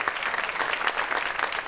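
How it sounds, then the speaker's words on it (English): Audience at a gaming and health research conference applauds, a short steady burst of dense clapping from a room full of people. "If we could give them a round of applause"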